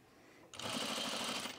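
After a brief quiet moment, a sewing machine starts stitching flannel shirt fabric, a steady close rapid mechanical whir of needle strokes that runs to the end, with no speech.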